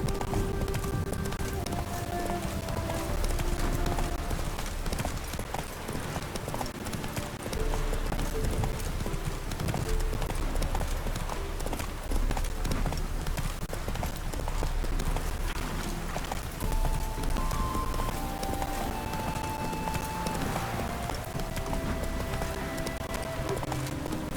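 In The Witcher 3, the horse Roach gallops at a steady, rapid clip-clop of hooves, close and continuous, with game music and ambient sound underneath and a voice speaking briefly.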